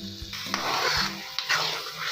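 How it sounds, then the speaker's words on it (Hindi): Carrot halwa frying and being stirred in a pan, with sizzling and a few scraping knocks of the spoon, fairly close and continuous, no voices. "भूनने का टाइम हो चुका है माशाल्लाह"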